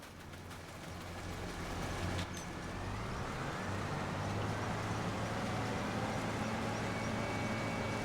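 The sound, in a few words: tractor engine in video game Farming Simulator 25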